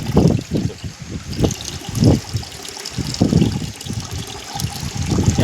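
Jaggery water is poured into a calcium mixture, giving uneven gushes and trickles of liquid splashing into a container, with repeated surges of pouring at close range and no speech.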